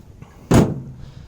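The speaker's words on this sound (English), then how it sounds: "I'm just going to use them to slide along this track here" Sliding door wheels running along a Unistrut track on a truck bed build, heard as a single sharp, loud metallic clunk or bang at close range, with quiet before and after.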